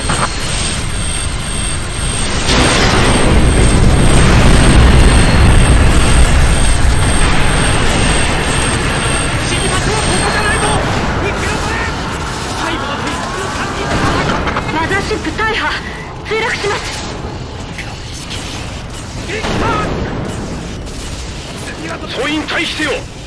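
A massive alien mothership crashes and explodes in the video game Earth Defense Force 3, a long, loud roar of rumbling booms and blasts sustained throughout. A radio voice speaks over the din in Japanese.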